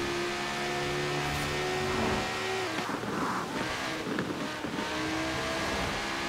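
A Lamborghini Sesto Elemento in the racing game Forza Horizon 4 accelerates hard, its engine a continuous high-revving drone with shifting pitch throughout, steady and fairly loud, mixed with game audio and no talking.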